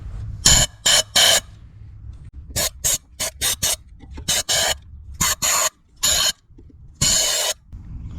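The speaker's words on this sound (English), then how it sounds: "I'm just going to try to blow some air down here first and see if we get lucky" Compressed air blown into an old Maytag washing machine engine under repair comes as a series of short, loud hissing blasts, some quick and clustered, others held for about half a second, close up with no talking.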